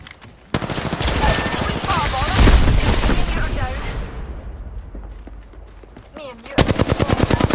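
Dense automatic gunfire in a squad-based shooter game, rapid loud bursts close by with explosions and a voice talking over them, ending in a fast rhythmic burst of shots.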